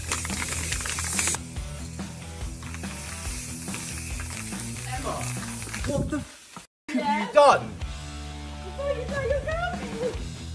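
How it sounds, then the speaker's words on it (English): Aerosol spray paint hisses in bursts as it is sprayed onto a car, painting it pink, with people talking and reacting over the hissing throughout. "Stop spraying."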